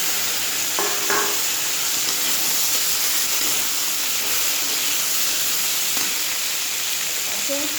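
Pieces of taro tipped into a hot frying pan with oil, a steady loud sizzle and hiss filling the whole stretch, with a few brief clinks of stirring near the start and again later.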